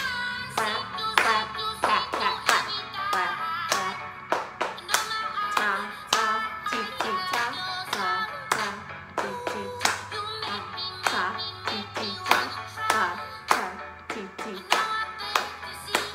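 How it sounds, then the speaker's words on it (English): Body percussion routine of hand pats and claps in a steady, evenly spaced rhythm, each hit sharp and close, repeating throughout with a faint low hum underneath. "pat, clap, pat, pat,"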